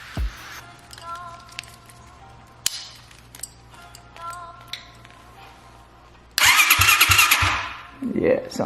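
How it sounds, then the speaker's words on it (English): A 1972 Honda CB125s fitted with a Lifan 200cc engine, cranked over several times with faint clicks and a low hum, then a loud burst of engine noise near the end, with speech. "I should be able to turn the ignition and it should just fire over, or not fire over, but just try to turn over."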